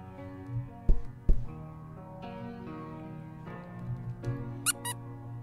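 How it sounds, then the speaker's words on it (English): Short, high squeaks in the PC video game Good Boy pop out a few times over a soft, sustained musical backdrop. "Squeak."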